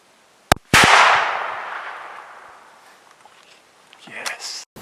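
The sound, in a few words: rifle shot at roe buck while hunting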